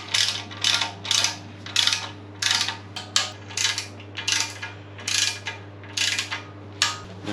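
A ratchet clicks in repeated short bursts, about a dozen strokes, as windage tray nuts are torqued on an LS engine. A steady low hum runs beneath the clicking.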